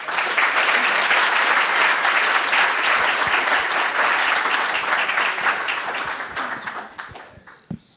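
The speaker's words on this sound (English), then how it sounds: "Big round of applause." Audience applause at a university cleantech pitch competition final, dense and sustained clapping from a full room that holds steady for several seconds, then thins out into a few scattered claps before dying away.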